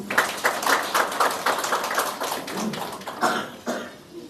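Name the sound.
audience clapping at a graduation ceremony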